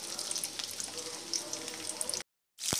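Chopped onions sizzle and crackle in hot oil in a wok (kadai), a steady close frying hiss that cuts out abruptly near the end, then resumes briefly.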